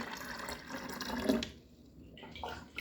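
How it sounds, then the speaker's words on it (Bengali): Water running from a tap into a plastic bottle, a steady splashing pour that fades partway through, then resumes briefly near the end, fairly close and moderately quiet. "এই দেখো, জল একদিকে ভরছি আর একদিকে চলে যাচ্ছে"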